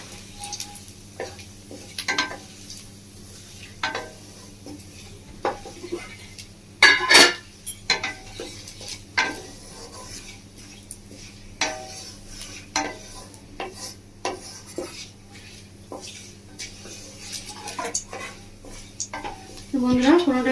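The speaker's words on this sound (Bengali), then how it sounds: "ফোড়নটাকে ভালো করে একটু ভেজে নেব।" Whole cloves, cardamom, cinnamon and a bay leaf fry in oil for a tempering, giving a soft sizzle under intermittent clinks and scrapes of a spoon against the pot.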